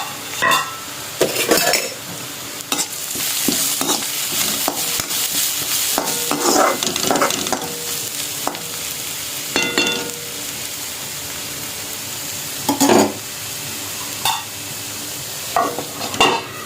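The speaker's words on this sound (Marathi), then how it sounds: "इथं कोबी शिजतो आहे." Cabbage cooks in a pan on a home stove while a utensil stirs it, giving a continuous sizzle broken by repeated scraping and clinking strokes, close and fairly loud with no talk.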